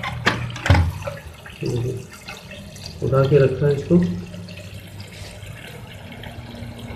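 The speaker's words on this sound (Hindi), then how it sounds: "पानी चल ही रहा है" Water runs steadily into a Cera toilet cistern whose faulty ball cock fails to shut off the flow, a continuous trickling and gurgling under a man's intermittent speech close by.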